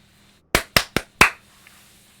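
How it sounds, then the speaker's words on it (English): Four sharp hand claps sound close and clear in an uneven quick rhythm, each with a short decay, in an otherwise quiet room. "I clapped along the first time, but not the second time."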